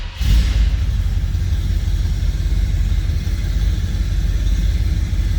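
A 1955 Ford F100 pickup truck engine cranks and catches easily, then settles into a loud, steady low rumble with a deep, throaty exhaust as it runs close by.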